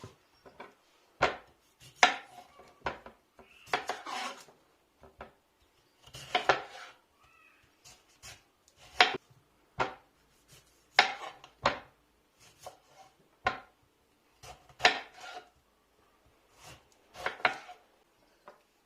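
Sharp knife chops through acur (snake melon) on a board for pickles, a steady run of crisp separate cuts with short pauses between them, close and clear with no talk.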